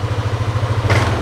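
A Yamaha Aerox scooter engine runs close by in a test, a steady low pulsing idle with a brief rise in revs near the end, no talk.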